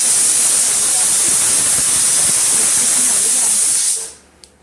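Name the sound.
pressure cooker releasing steam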